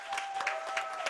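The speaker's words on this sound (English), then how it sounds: "Let's give them a round of applause." A roomful of people at a school board meeting claps for a school choir, brief scattered applause with distinct hand claps over a steady tone.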